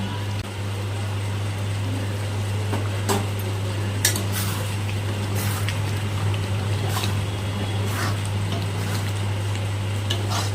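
Paneer posto stirred now and then in a pan so it does not stick, with occasional light scrapes and clinks of a spoon against the pan over a steady low hum and a quiet background.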